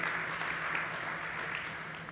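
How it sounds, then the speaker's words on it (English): A startup competition audience applauding, a steady wash of clapping from a crowd that stays even and moderately loud throughout, heard alone without talk. "big round of applause for Stefan from EPification"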